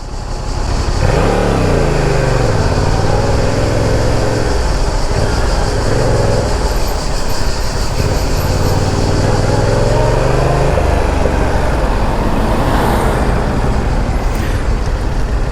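A Honda NT7 motorcycle engine pulls loudly through several rising revs and gear changes, the pitch climbing and dropping in repeated sweeps, close and continuous amid traffic noise.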